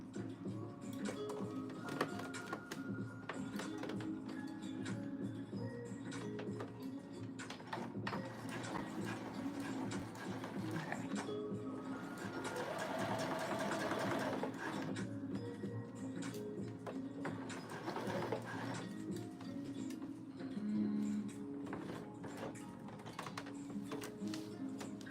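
A sewing machine stitches fabric, a steady mechanical tapping and whirring that runs for about twenty-five seconds at moderate, even volume, briefly rising in the middle, with no voices.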